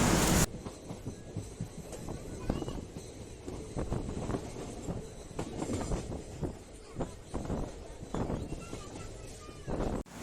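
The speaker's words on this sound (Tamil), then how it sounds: "ஒட்டஞ்சத்திரம் ரயில் நிலையத்துக்குள்ள நம்ம வண்டி வருது." A train rumbles into Oddanchatram railway station with steady low-frequency clatter and wind buffeting the microphone, the rolling noise continuous throughout with brief louder knocks.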